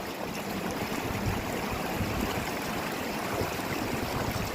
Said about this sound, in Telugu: ఈ వాటర్ అంతా దీన్ని చిన్న ముసి రివర్ అంటారు.